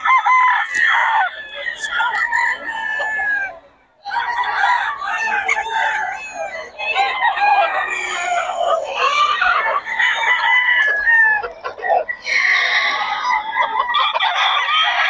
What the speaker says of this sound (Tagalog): Ang gulo ng mga manok dito.